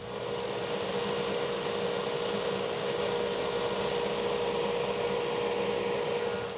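A disc sander grinds steadily against foam armor pieces, giving a continuous, close abrasive roar with a constant motor hum underneath.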